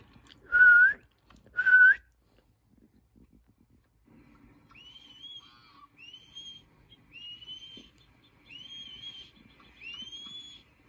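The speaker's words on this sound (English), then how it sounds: "I still figured out how to whistle like that." A person whistles two short, loud notes near the microphone, then after a pause a run of fainter rising whistled phrases follows over quiet outdoor background.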